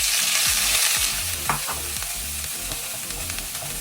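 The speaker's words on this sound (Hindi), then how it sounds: "अब तेल गर्म हो चुका है। तेल के अंदर हम डाल देंगे अपना जिंजर और गार्लिक।" Ginger and garlic fry in hot oil with a steady, loud, dense sizzle and a few soft stirring scrapes throughout, with no voices.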